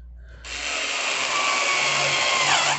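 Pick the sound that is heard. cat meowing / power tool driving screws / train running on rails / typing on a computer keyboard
power tool driving screws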